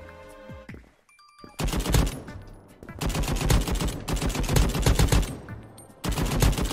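AK rifle gunfire in the browser shooter Krunker.io: loud, close bursts of rapid automatic shots in several strings separated by short pauses, with no talking.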